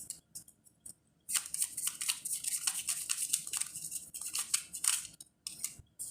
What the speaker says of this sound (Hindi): I'll shuffle 2 more times.